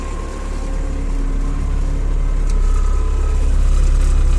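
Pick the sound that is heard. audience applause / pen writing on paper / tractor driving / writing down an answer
tractor driving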